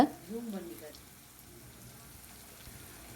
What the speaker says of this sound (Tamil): சின்ன வெங்காயமும் வெள்ளைப்பூடும் நல்லா வதங்கட்டும் பாருங்கள்